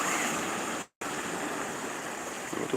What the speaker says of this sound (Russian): Вот тут волны какие большие, вот там вот.